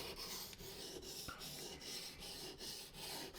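Bushcraft knife blade sharpened on a whetstone with steady back-and-forth strokes, a dry rhythmic rasping repeated about every quarter second, close and faint, with no talking.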